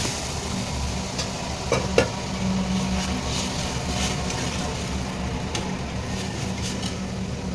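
Moong dal hits a hot spiced tempering and sizzles in the pan, a steady, moderately loud frying hiss with a couple of knocks from stirring and faint background noise.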